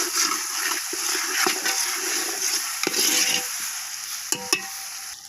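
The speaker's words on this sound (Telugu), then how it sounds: "బాగా వేగుతూ ఉందండి" Tomatoes frying in oil in a pan, a steady close hiss and crackle with occasional stirring knocks and a couple of sharp clinks near the end.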